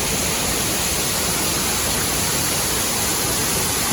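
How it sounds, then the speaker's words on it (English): Water overflowing the flume of an old grist mill in the Smoky Mountains, a steady, dense rush and roar that holds unbroken and fairly loud for the whole stretch, with no voices. "Water's overflowing the flume."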